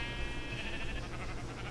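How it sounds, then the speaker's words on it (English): Sheep bleat in a Minecraft-style survival video game, a few nasal cries over a busy, layered background of game sound, fairly quiet. "Stupid ass sheep."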